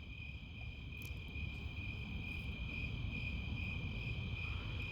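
Crickets and other insects chirp steadily outdoors at night, a constant high trill over a dense, even chorus that stays at a similar level throughout, with no voices.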